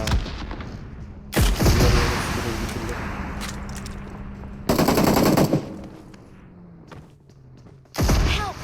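Heavy bursts of automatic gunfire in PUBG Mobile's heavy-weapons mode crack out in three loud volleys, with fainter shots, engine noise and excited player talk between them.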